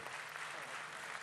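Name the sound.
audience applause for Mali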